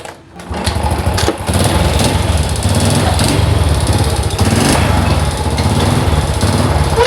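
Honda Supra motorcycle engine running steadily and loud during a clutch test, a continuous idle-like drone close by from start to finish with no talking.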